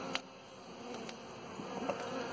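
Honey bees buzzing faintly around an open hive during an inspection, a soft continuous drone with a few brief closer passes.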